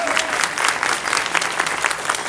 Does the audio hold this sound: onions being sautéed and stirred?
no